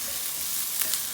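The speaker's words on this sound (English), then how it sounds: "I'll let the onions fry a bit, saute a bit." Onions fry and sauté in a pan with a steady, close hiss and sizzle, broken by a couple of brief sharp crackles.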